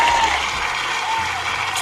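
Crowd cheering and applause at a radio show's one-year anniversary celebration, a steady, loud roar of clapping and shouting that fills the whole moment with no clear break.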